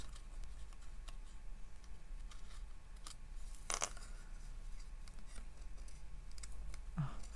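Scissors cutting paper, a sparse series of small sharp snips and clicks spread out over several seconds, close and fairly quiet, with no voices.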